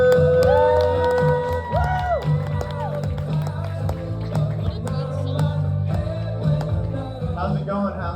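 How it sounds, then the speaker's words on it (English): A comedy club audience at House of Comedy in Arizona claps, cheers and whoops loudly as a comedian is welcomed, a dense lively crowd roar with shouts mixed with strong tonal music. "But y'all give a big round of applause for Luke Rowland."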